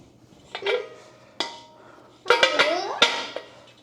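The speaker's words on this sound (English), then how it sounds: "Just put the little screws in." Small metal screws clink and rattle against the metal parts of a Cadac Carri Chef 40 camping stove, a few scattered sharp metallic taps and jingles with quiet pauses between.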